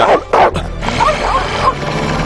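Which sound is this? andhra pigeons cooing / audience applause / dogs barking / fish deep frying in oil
dogs barking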